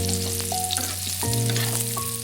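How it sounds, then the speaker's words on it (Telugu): Baby potatoes fry in hot oil with a steady, close sizzle and crackle, joined by brief stirring and scraping noises, and no voices are heard. "ఆయిల్ కొంచెం హీట్ అయిన తర్వాత బేబీ పొటాటోస్ని ప్లేస్ చేసేసాను. కంప్లీట్లీ ఆయిల్లో ఫ్రై అవ్వాలి ఇవి."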